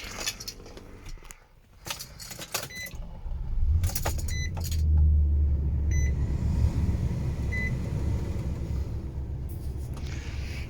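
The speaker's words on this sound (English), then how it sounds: "This vehicle is key to start." A key jangles and clicks in the ignition of a white 2014 Nissan Titan PRO-4X pickup before the engine cranks and catches, settling into a steady low idle rumble heard from inside the cab, with faint chimes and no talk.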